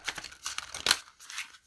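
A stiff tarot deck is shuffled by hand in a quick series of papery riffles and flicks, close and soft, ending with a brief crisp snap of the cards.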